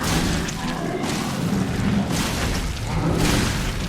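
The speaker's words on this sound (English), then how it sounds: "Now you can pretty much throw every grenade you have at him." Grenade blasts in the survival horror game Resident Evil 7, Not A Hero mode, a dense run of heavy booms and thuds rolling over one another with no clear gaps, loud and close throughout.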